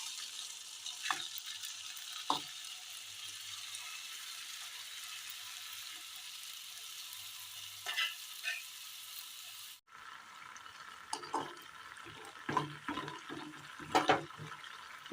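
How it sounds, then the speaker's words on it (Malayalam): Rolled dough balls dropped into a small amount of hot oil in a Kerala kitchen, giving soft, intermittent sizzling and bubbling with a few louder spatters, fairly faint overall. "എണ്ണയൊന്ന് നല്ലതുപോലെ ചൂടായി വരുമ്പോൾ അതിലേക്ക് നമ്മൾ ഈ ഉരുട്ടിയെടുത്തത്"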